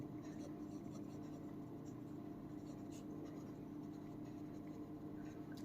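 A pen scratches steadily on paper during an accounting lesson, a faint continuous writing sound lying under a low hum with no break.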